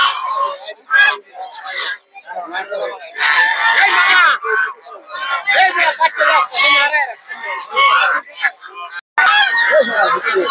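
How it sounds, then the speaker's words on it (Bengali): King ducks at a crowded winter poultry and bird market in Gausia, Golakandail: a dense, loud flock of honking quacks overlapping in bursts, with crowd babble underneath. "দেখতে পাচ্ছেন এগুলো হচ্ছে সব হচ্ছে রাজা হাঁস।"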